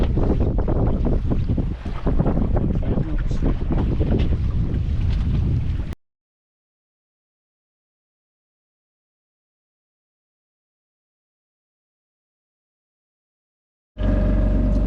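Sailboat on a beam reach under genoa at about three knots, giving a steady rush of wind and water for roughly six seconds, then silence before the noise briefly returns.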